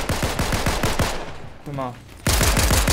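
Rapid automatic gunfire from the video game Fortnite rattles in loud bursts, breaks off briefly while a voice speaks, then resumes just as loud.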